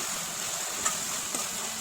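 Onions with a ground spice paste fry in a pan, giving a soft, steady sizzle with a couple of faint clicks from stirring.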